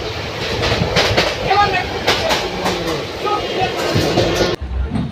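Train pulling into Howrah Junction, with a steady rumble and repeated clickety-clack of wheels over rail joints. Voices speak faintly beneath the noise, which cuts off suddenly near the end.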